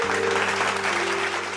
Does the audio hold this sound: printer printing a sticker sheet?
no